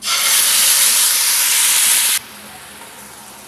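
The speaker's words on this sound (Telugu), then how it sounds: "మిక్సీ చేసి పెట్టిన మసాలా పేస్ట్ వేసేద్దాం" Ground masala paste hits hot oil and gives a sharp, loud burst of hissing sizzle for about two seconds, then settles abruptly into a low, quieter simmer.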